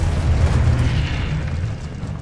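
A Confringo fire spell explodes in Hogwarts Legacy gameplay, giving a dense, loud, low booming rumble that fills the whole moment without a break.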